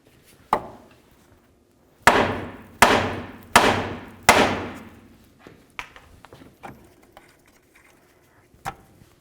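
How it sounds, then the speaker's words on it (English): A hammer strikes the steering knuckle of a 1998-2002 Honda Accord four times in fairly even succession, loud ringing metallic bangs up close, followed by a few faint clinks and taps. "we'll give the knuckle a couple loving bonks to break this free"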